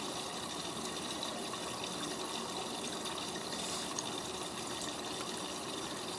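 Water pours steadily into the drum of a Miele W562 washing machine during the final rinse, a continuous even gush heard alone at moderate level.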